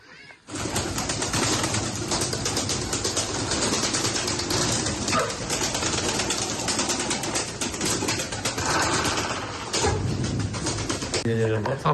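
Pigeons coo and flutter in a dense, noisy loft, a loud continuous wash of bird sound with scattered sharper noises and some voices mixed in.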